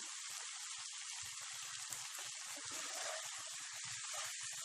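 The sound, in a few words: chicken roasting with spices on medium flame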